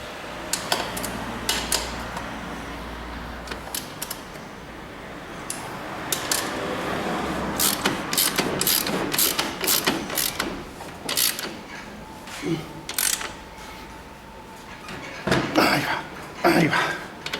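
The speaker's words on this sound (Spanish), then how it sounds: "Y ahora ya apretaríamos la rueda con la llave 22" A 22 mm wrench ratchets and clicks while tightening the wheel of a Honda CB 250 motorcycle: bursts of close metallic clicks and clanks at uneven intervals, with quieter handling noise between them.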